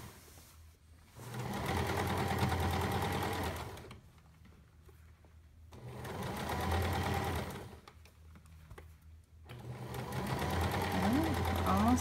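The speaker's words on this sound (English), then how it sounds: "you're just going to sew a straight stitch all the way down" A sewing machine runs a straight stitch down a pintuck panel in three long, steady runs separated by quiet pauses, heard close and fairly soft.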